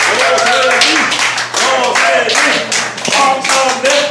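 Rhythmic hand clapping from a crowd at a Democratic Party member speech event in Gijang, steady and fairly loud for about four seconds, with a voice carrying over the clapping.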